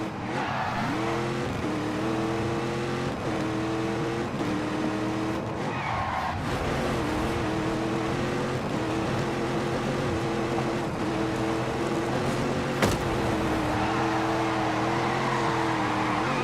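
A Dodge Challenger built from a Hellcat and made more powerful drives hard, its engine rising and falling through repeated revving gear changes, with tire squeal and loud close exhaust roar and no voices.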